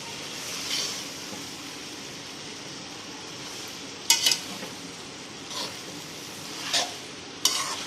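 A chicken spaghetti mixture is stirred in a pan, with a steady low sizzle underneath and a few sharp scrapes and clinks of a spoon against the pan at irregular intervals.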